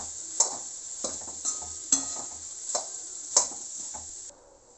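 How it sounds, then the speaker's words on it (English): A spoon or spatula stirs pulao rice in a pan in a quick series of scraping strokes over a soft, steady sizzle, with no talk, and the sizzle cuts out near the end. "And mix it completely."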